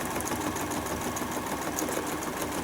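A sewing machine stitches free-motion bleachwork in a steady, continuous mechanical whir, fairly quiet and even throughout with no pauses or talking.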